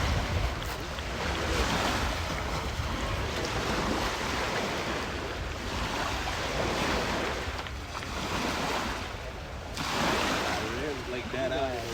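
Steady rush of sea wind and surf around a sailing boat out on the water, continuous and fairly loud throughout, with faint voices in the background.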